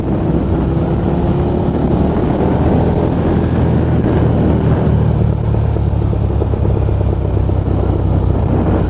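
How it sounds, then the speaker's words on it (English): Motorcycle engine and exhaust burbling off the throttle, recorded from a microphone inside a helmet with the visor open on a hot day, a steady low rumble blended with constant wind rush for the whole stretch. "Hope it picks up that lovely burble off the exhaust when I'm off the throttle."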